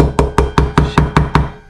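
Eight evenly spaced, sharp knocks as a brake arm is tapped into place on the wheel of a Honda MT50 moped, close and loud with a steady rhythm and ringing metallic decay, no voices.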